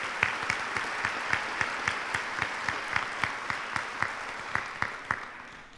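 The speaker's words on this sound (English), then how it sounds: "Let's give them all a round of applause for their support." A crowd claps steadily at a university nursing graduation and hooding ceremony in an indoor hall, with sustained applause and sharper individual claps standing out throughout.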